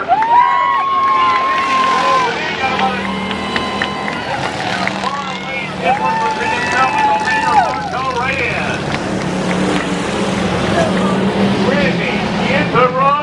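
Race cars speed around a track, their engines whining and rising and falling in pitch as they pass and shift. The roar is steady and loud throughout, and a commentator talks over it.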